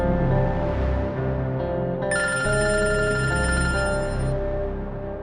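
Telephone ringing steadily under a bed of background music, with a bright repeating ring entering partway through and continuing to the end, fairly loud and close.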